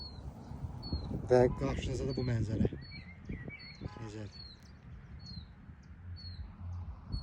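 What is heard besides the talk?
birds singing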